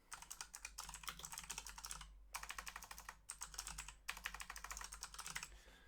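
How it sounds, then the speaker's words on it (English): Typing on a computer keyboard in three bursts of rapid, close key clicks separated by brief pauses, with no talking. "And here I'm going to type something."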